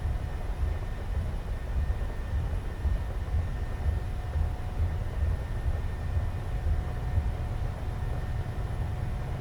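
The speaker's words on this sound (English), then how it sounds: "It's a sporty takeoff." Steady low engine roar of an airliner taking off from Kastrup in a flight simulator game, a constant rumbling drone with a faint whine, heard alone without talking.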